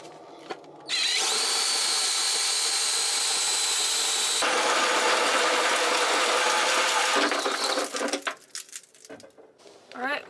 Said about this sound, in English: And we're using an 1 1/8" hole saw on these,